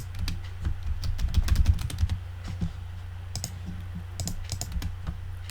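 A title is typed on a computer keyboard: quick, close clicking keystrokes in uneven bursts with short pauses, and no talking.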